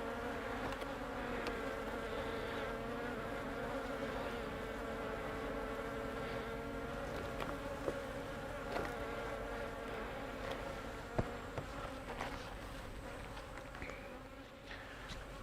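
Agitated honey bees from a queenless backyard hive swarm and buzz continuously around an opened hive during inspection, a dense, steady drone close by with occasional sharper passes near the listener.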